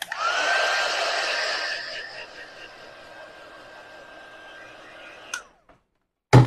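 A hair dryer blows steadily at close range on a painted sponge ornament for about five seconds with a constant whine, then clicks off, followed by a brief knock.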